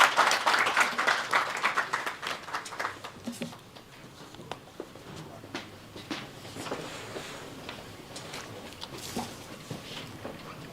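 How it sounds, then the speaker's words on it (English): An international conference audience at a college gives a round of applause that starts fairly strong and thins out into scattered claps and a few shuffling sounds, fading over about ten seconds. "Now, I request everyone to welcome him with a warm round of applause."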